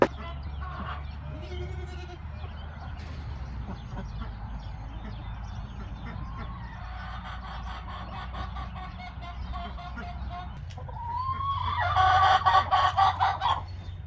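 Homestead goats bleat near a goat hut in a few scattered calls, with a louder cluster of bleats toward the end over a low background hum.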